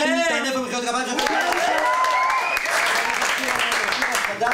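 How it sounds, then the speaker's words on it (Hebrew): A studio audience on a TV talk show breaks into loud, sustained applause as the host introduces a young singer, with a brief voice at the start before the dense, steady clapping fills the rest. "איפה מחיאות כפיים שלך?"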